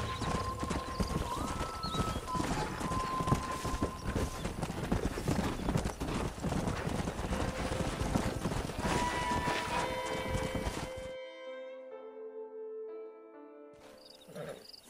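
Horse hooves clip-clop in steady galloping rhythm across open ground in the Red Dead Redemption video game, loud and continuous with tack rattling, then stop as soft ambient game music lingers.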